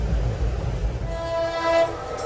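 Tatanagar-Thawe Express train, train number 18181, running with a low rumbling roar and rattle, then a sustained horn rising in over the moving train.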